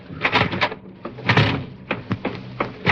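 A door opening as a sound effect on a 1945 Jack Benny radio program, giving a string of sharp knocks and clatters at moderate loudness with no talk over them.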